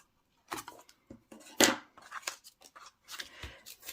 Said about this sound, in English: snips and I'm just cutting right down that edge